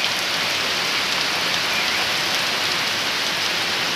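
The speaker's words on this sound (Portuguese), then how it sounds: "Só chuva." Heavy rain pours steadily over a bathing parrot, a dense continuous hiss of drops with no pauses and no voices.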